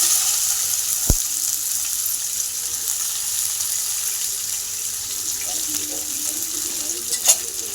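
Onion dropped into hot oil with cumin for pav bhaji, a sharp sizzle onset followed by a continuous even frying hiss and a few faint utensil clinks.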